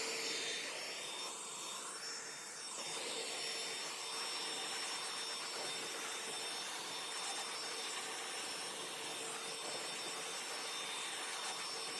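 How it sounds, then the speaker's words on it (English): A blow dryer runs steadily on freshly cleaned car wheels, giving a constant airy roar with a faint high whine. The sound is continuous and fairly quiet throughout, with no talking. "I'll blow dry them off"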